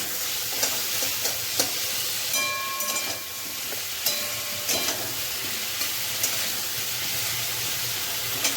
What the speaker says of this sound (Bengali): একটুখানি ভাজা ভাজা করছি, দেখো।